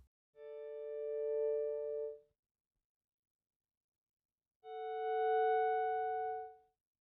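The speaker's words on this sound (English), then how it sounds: "I'm just selecting a couple notes on my guitar, using the volume knob to swell into them" Two clean electric guitar notes fade in slowly via the volume knob, swell and sustain, then cut off, separated by a few seconds of silence; no effects, just bare tones.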